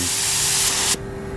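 A paint spray gun hisses in one steady, loud burst for about a second, then cuts off, leaving quiet room tone.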